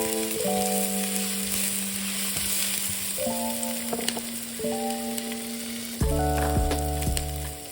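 Onions sweating in a pan with garlic salt, a steady broadband sizzle running the whole time with no talk, under soft background music.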